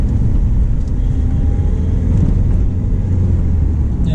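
Interior drone of a Mahindra XUV 500 with its diesel engine and 6-speed gearbox, steady and loud low rumble throughout with no clear rise in pitch to a redline peak.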